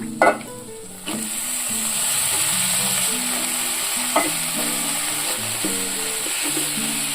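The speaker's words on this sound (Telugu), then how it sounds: "ఉల్లిపాయలు చాలా వరకు వేగాయి. వంకాయలు వేసేసుకుందాము." Brinjal pieces frying with onions, dried red chilli, curry leaves and turmeric in a pan, a loud steady sizzle after a clattering drop of the pieces, with occasional spoon knocks and stirring.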